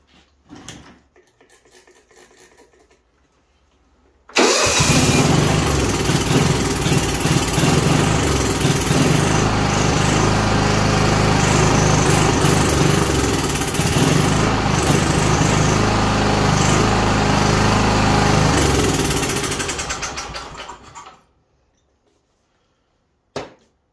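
John Deere lawn tractor with a suspected carburetor problem cranks and catches, its engine running loud and steady close by for about sixteen seconds before shutting off, with quiet handling noises just before it starts.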